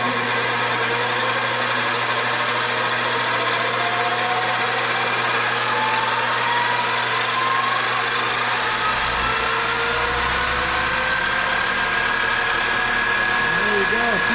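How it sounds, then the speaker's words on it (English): A Vevor mini lathe spins up toward 2,200 RPM, its motor whine rising steadily in pitch into a loud, intense, continuous mechanical drone close by. "now I'm going to increase the speed on the lathe"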